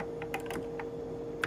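Keys tapped on a Xerox Star workstation keyboard during a restoration, a few quick clicks spread irregularly over a brief stretch, close and fairly quiet, with no one talking.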